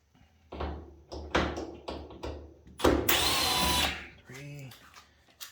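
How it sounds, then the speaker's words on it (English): A power drill whirs in several short bursts as it backs screws out of a Samsung dryer under repair for no heat, then one longer steady run, with a voice speaking briefly between the bursts. "We're gonna go ahead and remove this these 4 screws here"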